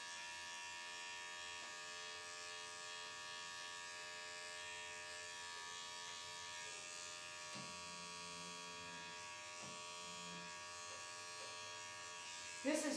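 Electric clippers buzz steadily and close while grooming a short-haired dachshund, a constant high electric whine with a quiet voice talking briefly underneath partway through.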